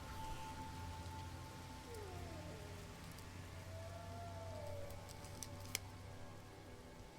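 Rain falls steadily in the video game No Man's Sky, a soft, constant patter at low level with a few faint ticks and a brief sharp click near the end, no voices.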